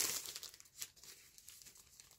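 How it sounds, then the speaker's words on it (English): A velvety plastic bag from the packaging of a Creality CR Scan Raptor 3D scanner is ripped open, producing close crinkling and a brief tearing rasp that fades into softer rustling. "It's a shame we have to rip this nice velvety plastic bag"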